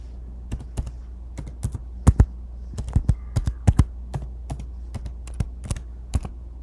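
Password being typed on a computer keyboard, a quiet run of separate, irregular key clicks with brief pauses and a few louder taps, close by with no talk.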